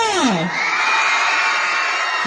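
A crowd at a small local fair cheers and shouts loudly and continuously, with a rising whoop at the start and sustained massed voices filling the whole moment at close range.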